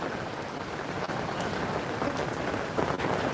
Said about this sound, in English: I'm just under this umbrella. It was raining.